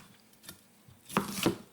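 A knife cuts through an onion in two or three quiet, close strokes, each ending in a brief tap on the board, with near silence between them.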